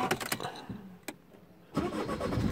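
A used car's engine cranks and catches, settling into a steady running rumble after a short quiet pause and a few earlier clicks and knocks.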